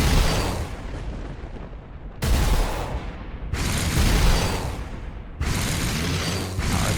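Heavy bolter fire in Warhammer 40000 Armageddon: four loud, booming bursts spaced about every one to two seconds, each a sharp crack trailing into a rumbling decay, with no talk.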